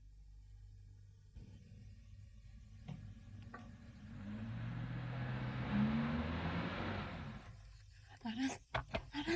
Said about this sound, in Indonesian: ada suara mobil.